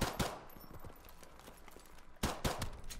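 Gunfire in Call of Duty 4 Remastered Gun Game: a sharp burst of shots at the start, a quieter stretch, then another cluster of loud cracking shots near the end, with no voices.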